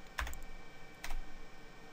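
Two quiet key presses on a computer keyboard while entering a menu option during a password reset on a Brocade DS-200E/B switch, spaced about a second apart over a faint steady background hum.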